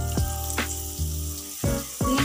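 Laddu batter poured into hot boiling oil for frying laddu, giving a close, steady sizzle with a few brief louder bursts as more batter hits the oil.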